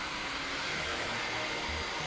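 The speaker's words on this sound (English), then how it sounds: "I'm gonna use the blow dryer on high heat, but the low airflow" A blow dryer set to high heat and low airflow runs steadily while drying hair, a loud continuous whooshing roar up close with no talking.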